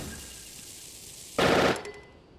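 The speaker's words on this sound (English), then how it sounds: "when you fuse, you shoot up to 5 projectiles, and it only uses 1 of the consumables" A bow in Zelda: Tears of the Kingdom looses five bomb-fused arrows at once, a sudden loud burst of overlapping blasts that rattles for a moment and then cuts off sharply, set against a low steady background hum.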